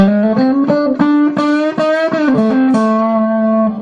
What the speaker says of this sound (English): Starting to get a lot of sustain and some real creamy distortion